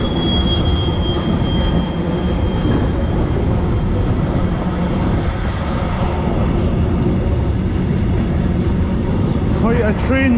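Freight locomotive 66745 hauls a long train through Kilmarnock station, a loud continuous rumble with wheel squeal and clattering wagons that persists throughout, with a brief screech near the end.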